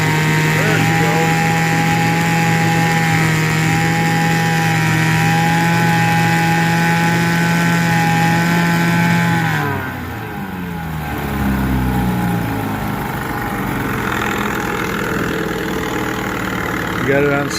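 A 1978 Johnson 6 hp outboard motor drones steadily at full throttle, then drops sharply in pitch and volume as it slows, settling into a lower, rougher run with the water.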